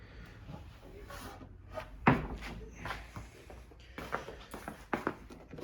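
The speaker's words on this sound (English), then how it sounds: "So we open up the drawer," Wooden drawer of a piece of Georgian naval furniture being pulled open, a sharp wooden knock and slide near the middle, with lighter handling clicks and taps around it in a quiet room, no talking.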